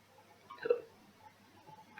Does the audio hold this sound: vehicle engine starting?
no